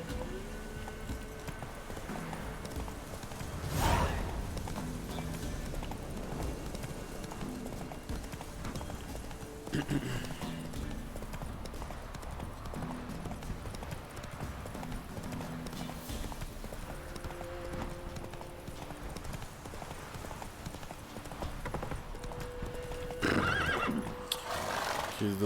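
A horse in The Witcher 3 video game neighs and its hooves clip-clop as it gallops, with loud whinnies standing out over game sounds and a player talking throughout.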